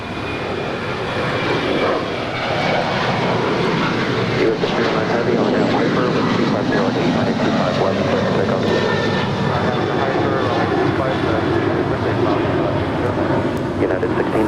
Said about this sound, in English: That is Spirit Airlines Flight 1359, just landed from Chicago.